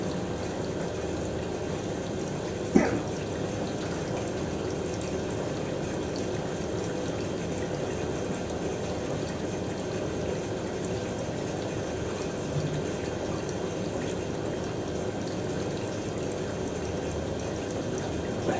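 Cool water pours steadily into the drum of a Hoover A3060 Electronic 1100 washing machine, a soft, even rushing that runs for the whole stretch, with one brief click early on.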